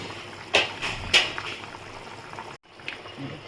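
Mutton curry cooking in a covered pot on a high flame, with a soft continuous bubbling and simmer, punctuated by a few close clattering knocks and a brief quiet gap.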